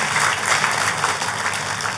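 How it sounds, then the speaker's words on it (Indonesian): A church congregation breaks into lively applause, many hands clapping in a steady, full wash that holds at an even level throughout. "Tepuk tangan sekali lagi yang meriah buat Tuhan kita"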